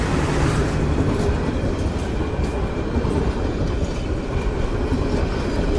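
A train rumbles past close by in Bangladesh near a level crossing, a steady, loud roar of wheels and rail noise with faint clickety-clack running throughout.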